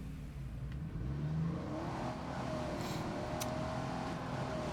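A car engine revs and accelerates steadily while driving in the State of Decay 2 video game, a continuous mid-pitched whir that stays loud and close for the whole stretch.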